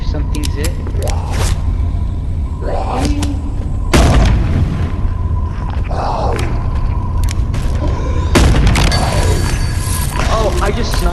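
Gunshots in the multiplayer VR game Animal Company, played during its circus update: a few sharp booming cracks spaced several seconds apart over steady game noise, with players chatting throughout.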